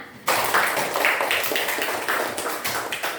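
A classroom of pupils in Medan bursts into brisk handclapping during a lesson, a dense, close clatter that starts suddenly and continues steadily to the end.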